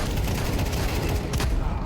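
Dense, continuous gunfire from a video game fills the short moment, loud and close, with rapid overlapping shots and no talk.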